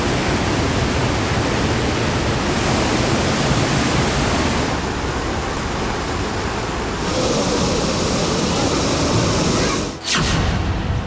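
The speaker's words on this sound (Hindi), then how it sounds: "पहाड़ से पानी नीचे आया, बिहार में बड़ी तबाही लाया" Floodwater rushing down from the mountains after heavy rain, a dense continuous roar of torrent filling everything, loud and steady with a brief dip near the end.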